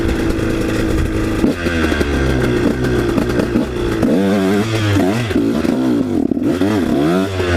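A KTM 150 SX two-stroke dirt bike rides off-road on a damaged trail, its engine revving up and down in loud, close, rising and falling bursts with some clatter.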